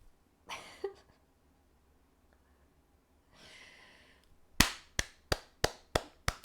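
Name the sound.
applause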